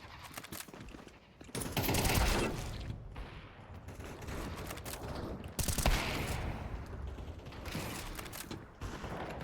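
Rapid automatic AK rifle fire in a competitive shooter match, dense bursts crackling close and loud across the whole stretch with brief lulls between volleys and mechanical clatter.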